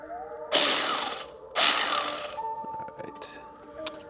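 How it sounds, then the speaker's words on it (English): Ratchet working loose the bolts on a Custom Dynamics tag mount on a 2024 Harley-Davidson, two loud bursts of rapid clicking followed by quieter, scattered mechanical ticks. "Just unloosen the bolts and redo it."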